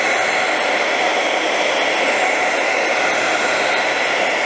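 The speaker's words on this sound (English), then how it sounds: "grab your blow dryer again and start pushing this down" A blow dryer runs steadily and close, a constant loud airy whoosh used to heat a sole protector on Yeezy 350 V2 sneakers, with no voices.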